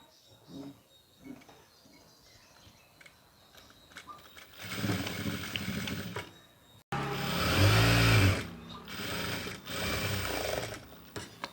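Sewing machine stitching a pinafore school uniform, running in two loud bursts after a quieter stretch of faint clatter, with a brief pause between runs and no talking.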